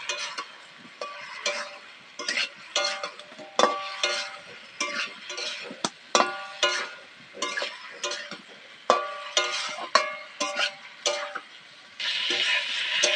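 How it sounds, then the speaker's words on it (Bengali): Lightly fried cauliflower and potato are stirred with spices in a pan: rhythmic, clinking spatula strokes scrape against the metal in quick repeated bursts over a soft sizzle, ending in a denser frying hiss. "এর মধ্যে আগে থাকতে হালকা করে ফুলকপি আলুটা ভেজে নিয়েছি, সেটাও দিয়ে দেবো, দিয়ে এবার কষিয়ে নেবো।"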